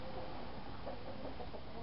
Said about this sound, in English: Just look at the chickens roosting for the night